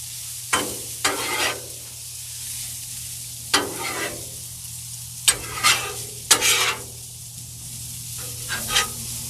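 Pizza pasta sizzling steadily on a Blackstone griddle while a spatula stirs and scrapes it in several separate bursts, loud and close over a constant low hum, no talking.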